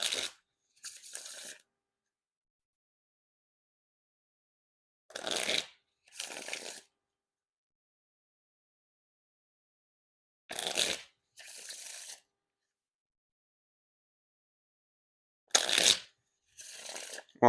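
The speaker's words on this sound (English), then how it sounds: "Now time for the riffle shuffle or bridge shuffle." Dan and Dave playing cards are riffle and bridge shuffled in four rounds, each a pair of short crisp riffling bursts separated by long silences, close and quiet.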